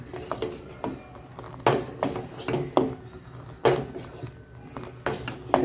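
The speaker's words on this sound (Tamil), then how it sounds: "இது மாதிரி கரண்டியால் கலக்கணும்னா நல்லா உங்களுக்கு பால் நல்லா காயும்" A ladle scraping and clinking against a pot of boiling milk, repeated metallic strokes every second or so with softer rubbing between, close and moderately loud, no voices.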